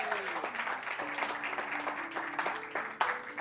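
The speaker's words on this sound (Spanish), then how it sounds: "Denle un aplauso al Señor, por favor." A church congregation claps in steady applause for about three seconds, broad and full, with sustained musical tones ringing underneath and a brief voice or two mixed in.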